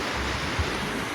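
Sea waves wash against the shore in a steady, windy roar, heard close and continuous with a soft low thump partway through and no voices.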